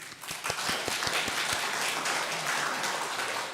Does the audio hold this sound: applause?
yes